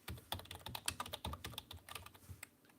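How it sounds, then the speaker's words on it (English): Fast typing on a computer keyboard, a dense run of quick, crisp key clicks heard close and fairly quiet, continuing without pause and with no talking. "You hear that little fast finger typing?"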